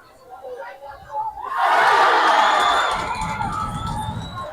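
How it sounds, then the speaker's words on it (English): Khomas Nampol football fans in a stadium at an NFA Cup semi-final erupting into a loud swell of cheering and shouting after a missed penalty, rising sharply from quieter crowd noise and then slowly fading into a roar. "Ibrahim Yosef Juja gives Khomas Nampol fans something to cheer as he missed his penalty"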